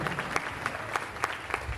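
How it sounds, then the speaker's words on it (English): Parents at a kindergarten graduation day clap in a soft, distant round of applause with regular bursts, faint and steady throughout. "please just give them a good clap and please appreciate their hard work"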